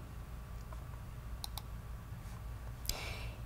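A computer mouse clicks a couple of times in close succession, then once more, faint and near against a steady low hum of fan or room noise.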